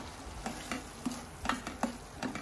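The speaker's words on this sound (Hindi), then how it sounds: "ऐसे सबको मिक्स करेंगे।" Turmeric and garam masala frying for dhaba-style shahi paneer, a spoon knocking and scraping the pan in short uneven strokes over a low sizzle, close but quiet, with no speech.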